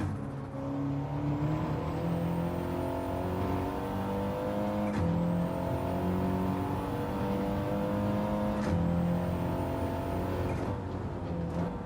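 Race car in Gran Turismo 7 at full throttle, a steady loud engine roar climbing through the revs with brief dips at each gear change, held continuously with no talk.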